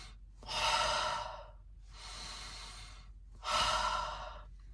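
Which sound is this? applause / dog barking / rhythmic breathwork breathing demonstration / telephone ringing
rhythmic breathwork breathing demonstration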